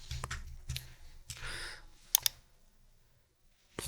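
Several separate bursts of clicky computer keyboard typing, quiet and close, with short pauses between the groups of keystrokes and a couple of sharper clicks before the clip falls silent.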